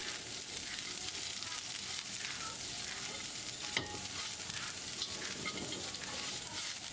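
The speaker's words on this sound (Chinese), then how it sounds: "倒入刚才炸过的鸡块进去翻炒，让花椒和辣椒的麻香味融入到鸡肉里面" Fried chicken pieces are stir-fried with Sichuan pepper and chili in a wok, giving a constant close sizzle with scraping stirs and a single sharp clack midway.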